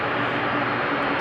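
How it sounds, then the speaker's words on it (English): TUI Boeing 767-300 jet at Amsterdam Schiphol, a steady, loud broadband engine roar holding level throughout, with no talk. "Next up will be TUI 767-300 to Bodrum"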